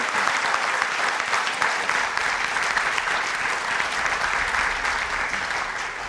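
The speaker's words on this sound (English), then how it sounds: "How about a nice round of applause for our special guest?" An audience applauds a special guest, Hall of Famer Anthony Muñoz, at a pro football event: continuous, even clapping from a sizable crowd, loud and close, with no break throughout.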